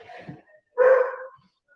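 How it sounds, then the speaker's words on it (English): A single dog barks once in the background, a short, fairly loud bark after a brief softer sound, followed by silence. "I got the dog barking in the background."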